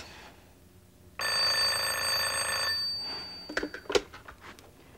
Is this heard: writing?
no